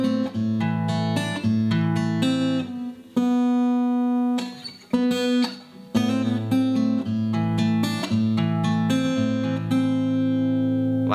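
Acoustic guitar playing a bridge arpeggio, bright picked notes rolling through repeated chord shapes with short gaps between phrases, close, loud and solo with no voices.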